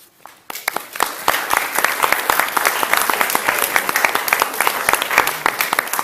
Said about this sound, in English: Claps for both these groups.